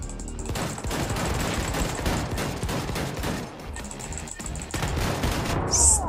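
Rapid bursts of gunfire crackle almost continuously, loud and close, with short pauses between volleys, in the video game Wolfenstein II: The Freedom Chronicles.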